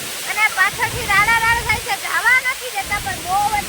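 Water pours over Ranjit Sagar dam in a continuous broadband rush, while people talk nearby over the roar.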